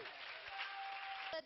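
Hands clap in a church service, a short burst of dense applause from the congregation that cuts off sharply at the end, with a voice faintly mixed in.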